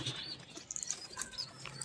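Pigeons bathing in water flap their wings in quick, soft fluttering bursts with light splashes, close by and fairly faint, and a few faint chirps and coos are mixed in.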